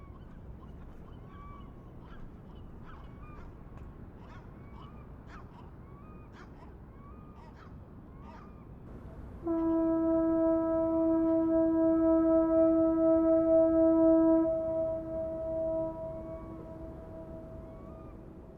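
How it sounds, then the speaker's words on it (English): In a video game level, seagulls cry repeatedly over a murky foggy ambient background, then a loud, sustained deep ship horn blast enters and holds for several seconds before fading. "the screeching of nearby gulls, and perhaps the sound of ship horns somewhere off in the fog"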